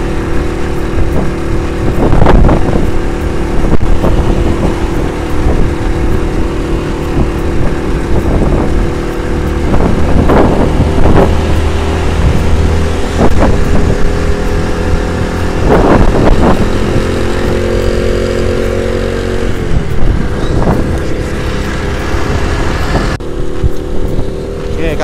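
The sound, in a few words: Shogun 1997 motorcycle engine climbing uphill slowly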